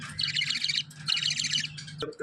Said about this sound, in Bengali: কি মিষ্টি পাখি এরা